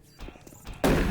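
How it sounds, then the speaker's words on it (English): Gunfire from the first-person shooter Doom, a dull burst of shots ending in a loud, broad blast that fills the final moments, with no voices. "Gunshots sound a bit more realistic in this one."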